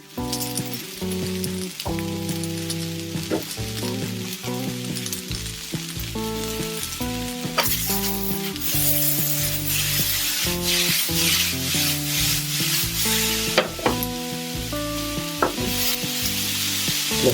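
Garlic fries in a pan with a steady sizzle for Sicilian caponata, while a spoon scrapes and clinks as it stirs. Tonal background music plays throughout, and the sizzle grows brighter partway through.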